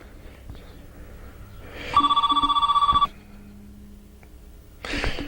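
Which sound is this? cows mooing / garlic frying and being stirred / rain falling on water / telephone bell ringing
telephone bell ringing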